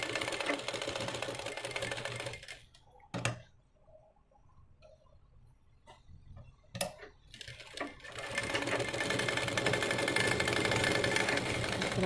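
A sewing machine stitches fabric for an umbrella dress in a steady rapid whir, running continuously, pausing for a few seconds in the middle with a couple of sharp clicks, then starting up again and running on.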